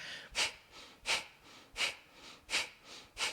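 Sharp nasal exhales in an abdominal breathing exercise, five forceful snorting bursts at an even, brisk rhythm about every 0.7 seconds, close and alone with no talking.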